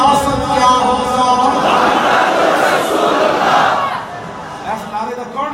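A large rally crowd at a religious political speech shouts a slogan back in unison, loud chanted voices that swell, then fade in the final seconds.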